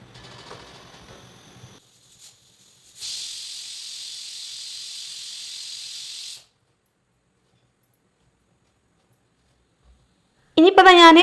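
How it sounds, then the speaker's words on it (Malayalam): A pressure cooker on the stove while chicken cooks inside, giving a steady high hiss for a few seconds after some quieter kitchen noise, then silence and a brief loud burst at the end. "നമ്മൾ ചിക്കനൊന്ന് വേവിക്കാൻ ഒരു മൂന്ന് വിസിലൊക്കെ മതിയാവുമല്ലോ ചിക്കൻ വേവാനായിട്ട്"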